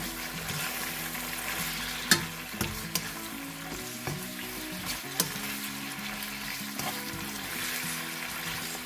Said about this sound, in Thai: พัดส่วนผสมทุกอย่างให้เข้ากัน